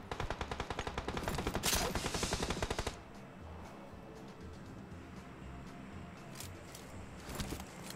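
Rapid automatic gunfire in a close-range sniper shooter video game, a dense burst of shots for about three seconds that then cuts to a quieter background with a few distant pops.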